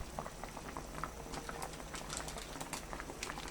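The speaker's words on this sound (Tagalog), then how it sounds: "Kumukulo na." Sinigang na pampano broth boiling in a pot, a steady close bubbling with fine popping and patter, continuous and alone.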